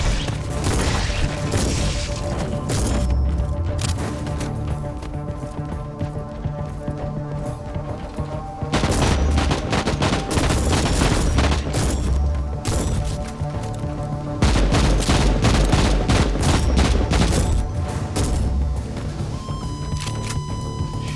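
Rapid shotgun and bolter gunfire in Inquisitor Martyr, a dense, continuous barrage of sharp repeated shots with booming impacts that keeps up loud and close the whole way through, with game music underneath.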